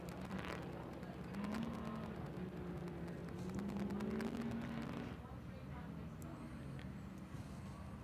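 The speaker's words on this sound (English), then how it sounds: "The 433 Alice Local single-seater trophy truck" Single-seater trophy truck racing in the Finke Desert Race, its engine droning steadily at a distance for several seconds with a rising and falling pitch, then fading slightly as it passes, with a constant background roar throughout.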